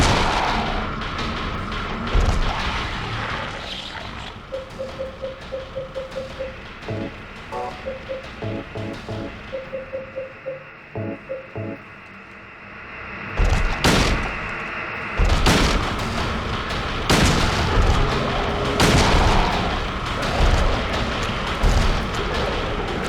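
Shotgun blasts in the Silent Hill 2 video game, several loud booming shots spaced apart, with a quieter stretch of rhythmic game sound effects between them and dense heavy firing later.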